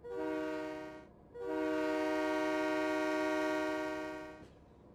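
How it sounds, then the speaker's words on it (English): A sustained train horn blasts twice, long and loud, the second note held for several seconds before cutting off, as a train is towed back to the station in Train Mechanic Simulator 2017. "we are towing now, of course, the train back to the station"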